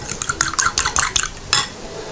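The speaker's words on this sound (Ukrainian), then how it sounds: "Яйця розбиваю отак от вилкою." Small eggs are beaten with a fork in a bowl for soup dumplings, a quick run of close, bright clinking taps with short pauses between strokes, no voices.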